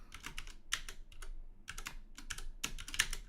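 Steady computer keyboard typing while coding, a run of quick close key clicks in uneven bursts with brief pauses, heard alone with no voices.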